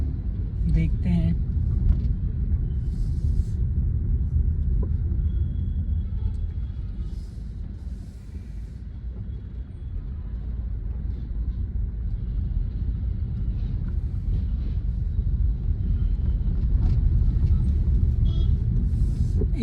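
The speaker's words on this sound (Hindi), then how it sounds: "बहुत ज़्यादा ट्रैफिक है यहाँ पे" Inside a car on a late evening drive through heavy city traffic: a steady, loud low engine and road rumble fills the cabin throughout, with faint distant traffic noises and a voice talking over it.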